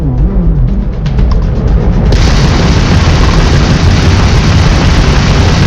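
A homing missile explodes during space combat in Starfield, a deep rolling boom that swells into a loud, sustained roar of blast and rumble.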